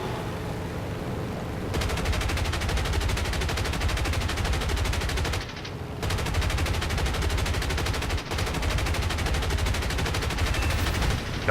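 Aircraft machine guns firing in the War Thunder combat game, long rapid bursts of dense automatic gunfire with two brief pauses, loud and continuous.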